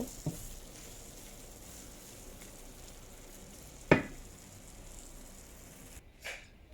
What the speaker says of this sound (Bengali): সেই জন্য এই অনবরত নাড়াচাড়া করতে হয়